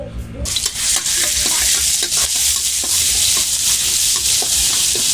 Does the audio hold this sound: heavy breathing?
no